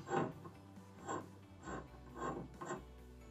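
A hand tool screws a part into a Crane Dialeze shower valve, giving about four even, soft ratcheting turns at a steady rhythm, close up and quiet.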